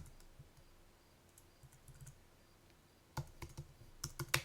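Quick bursts of keystrokes on a computer keyboard as a file name is typed, quiet and close, with scattered taps early and a denser flurry of clicks toward the end.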